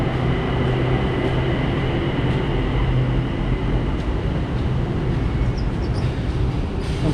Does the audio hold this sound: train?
yes